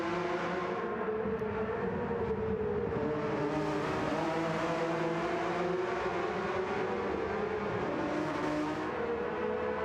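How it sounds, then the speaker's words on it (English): Race car engines in the Gran Turismo 7 racing game scream at high revs, a continuous loud whine that rises and falls slightly as the cars run in close company, with no speech. "We're going to listen to these engines scream for a little while."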